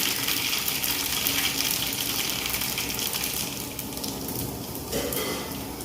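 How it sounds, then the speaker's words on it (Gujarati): Mustard seeds, cumin, fenugreek, asafoetida and dried red chillies sizzle and crackle in hot oil for a tempering; a loud, steady hiss close by, continuous throughout with no talking. "તો તેલ ગરમ થઈ ગયું છે. રાઈ, જીરું, મેથી ને હિંગ નાખશું. સૂકા મરચાં નાખશું."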